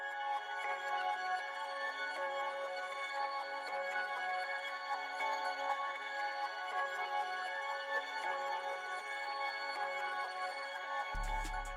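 A flipped sample, time-stretched and processed with effects, forms a dense, shimmering sustained wash of high tones that holds steady and quiet before a low thump at the very end.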